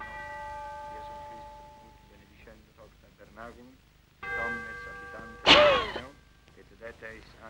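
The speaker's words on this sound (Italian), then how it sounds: "Già la campana delle Budrie suonava per lei l'agonia." A church bell at Budrie tolls a death knell, its ringing tones sustained and repeated under a narrating voice, with one louder, brighter strike standing out near the end.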